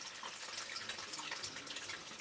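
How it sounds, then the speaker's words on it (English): Water from a tap steadily filling a container for home winemaking, a continuous even hiss and splash, close and alone with no voices. "I plan on filling this sucker up with as much water as I can."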